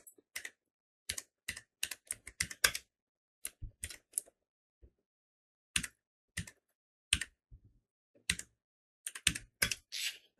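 Bursts of quick clicking keystrokes on a computer keyboard, typed in short irregular runs separated by pauses, close and clear in a quiet room with no talking.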